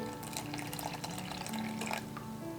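Parsley and garlic infused water pours into flour for bigoli pasta dough, a soft, steady trickle of liquid with faint dripping, quiet and continuous throughout.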